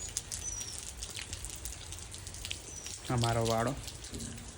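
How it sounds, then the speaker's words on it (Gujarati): Steady rain patters throughout, with a brief spoken phrase partway through and a faint bird call at the start. "રેલી પછીનો વધારે પડતો વરસાદ ચાલુ છે."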